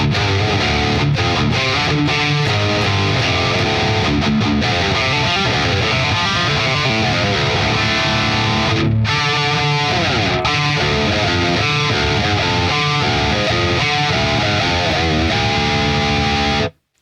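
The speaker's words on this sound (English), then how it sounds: "Let's start with the bridge pickup, just some general, just kind of rock sounds, no delay, no reverb, just chug it up." Signature electric guitar on the bridge pickup, with heavy distortion and no delay or reverb, playing loud, dense rock chugging riffs almost nonstop, with a brief break midway and an abrupt stop at the end.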